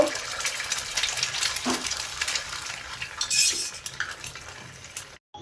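Eggs and garlic fry in hot oil while a utensil stirs and clinks against the pan, giving a soft continuous sizzle broken by scraping and metallic taps, heard close up.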